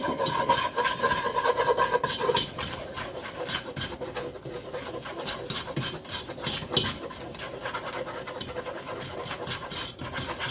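Flour being stirred into a pan of beef for enchiladas: brisk, repeated scraping and rasping of a utensil against the pan, close and steady with scattered metallic clinks, no talking.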